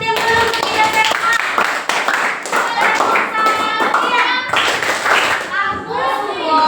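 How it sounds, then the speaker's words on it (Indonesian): Students at a school guidance session in Lubuk Sikaping clap their hands in a dense, uneven burst that runs the whole time. Children's voices and shouts rise over the clapping. "beri tepuk tangan yang belum kita terima."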